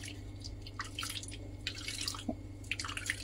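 Juice from grated coconut dripping and trickling as the gratings are pressed, with irregular close, faint splashy drips and a few quick squelches.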